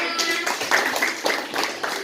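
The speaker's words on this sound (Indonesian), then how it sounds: "Tepuk tangan untuk kelompok 5" A small group of people claps for a few seconds in a classroom session, a brief, moderately loud burst of hand claps without distinct rhythm.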